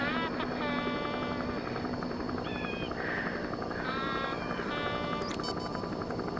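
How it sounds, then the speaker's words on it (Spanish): A helicopter comes in to land in Metal Gear Solid V: The Phantom Pain, its steady rotor drone running under game dialogue and someone talking, with a sharp electronic tone near the end. "There's a chopper landing."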